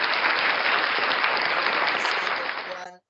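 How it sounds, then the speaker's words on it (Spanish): Students clap together in a classroom, a dense and steady burst of applause lasting a few seconds that fades out quickly at the end, with no voices over it. "Fuertes palmas para ustedes"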